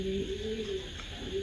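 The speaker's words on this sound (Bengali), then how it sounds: "মাক্সি লাইট কালার একটা নর কবুতর দিলাম" A light-coloured male racing pigeon gives a short, soft, low cooing call, close and alone against quiet background hiss.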